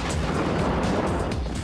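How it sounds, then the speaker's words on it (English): Booming bursts from a large fireworks display, a dense continuous rumble of explosions and crackling with no clear gaps across the short stretch, loud and close. "fireworks."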